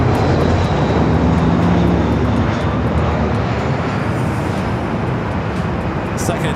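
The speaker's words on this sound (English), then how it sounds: "KLM flight of the day heading to the south side." A KLM airliner arriving at LAX roars steadily and loudly overhead, a broad continuous jet-engine rumble that fills the whole stretch with faint speech at the start.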